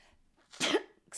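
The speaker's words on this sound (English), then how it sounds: "Oh my gosh, I got the sneezes tonight." One person sneezes nearby, with a soft breathy intake leading into a sharp burst and a short follow-up sound right after.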